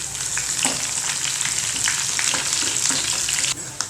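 Chopped shallots, dried red chillies and curry leaves fry in hot oil with a loud, steady crackling sizzle, punctuated by the scrape of stirring, close up and without voices.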